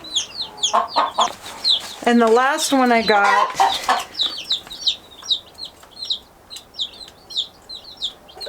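Blue Andalusian chicks and Salmon Faverolles chickens chirp and cluck close by in a steady scatter of calls, with a brief burst of speech partway through.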